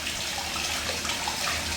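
Water pouring out of a beer keg during home keg cleaning, a steady broadband splashing rush that runs unbroken and close for the whole span, with no voices.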